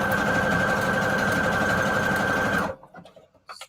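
A sewing machine stitches a zigzag seam through scrap fabric for a junk journal cover, a loud steady mechanical whir running continuously before stopping abruptly, followed by faint handling noises.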